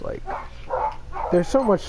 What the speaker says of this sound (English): Oh my god, my dogs are so annoying.